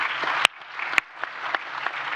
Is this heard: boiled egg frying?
no